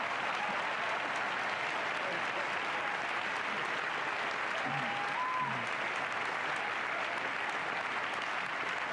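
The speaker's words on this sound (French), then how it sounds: "Le public applaudissant et applaudissant bruyamment." A large crowd applauds loudly and continuously for about nine seconds, a dense wash of clapping with a faint murmur and a brief whistle partway through.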